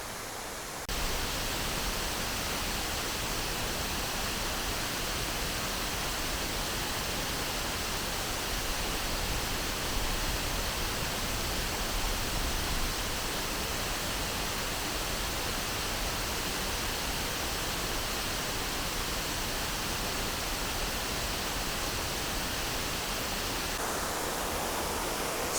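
A tall waterfall throwing lots of spray gives a steady, dense, broadband rush of falling water that stays even and unbroken throughout.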